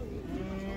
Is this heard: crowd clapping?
no